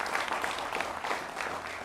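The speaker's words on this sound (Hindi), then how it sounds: "जोरदार तालियों से उनका भी स्वागत।" A studio audience at a televised news debate claps in welcome, a dense, even wash of applause at moderate volume, steady for the whole short stretch with no voices.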